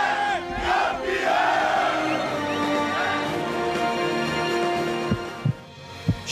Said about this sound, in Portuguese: Último grito de campeão no Estádio Olímpico Monumental